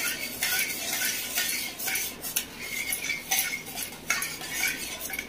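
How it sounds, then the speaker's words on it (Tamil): Eggs being beaten with a spoon in a bowl to mix, a rapid continuous clinking and scraping of metal against the dish, fairly close and without voices. "எல்லாம் மிக்ஸ் ஆகிற மாதிரி நல்லா டக டக டக டக நல்லா அடிச்சு விட்டுருங்க"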